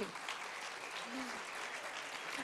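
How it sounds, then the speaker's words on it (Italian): A crowd claps in brief, faint applause, an even patter of many hands that stays low and steady throughout. "Direi applauso di rito"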